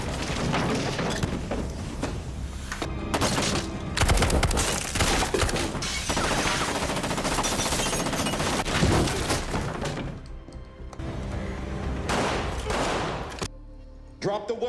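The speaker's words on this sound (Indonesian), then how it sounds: "Aksi baku tembak pun tak dapat dihindari." Gunfire in a film shootout scene, with dense bursts of shots and crashes layered with music and effects, loud and nearly continuous before thinning out near the end.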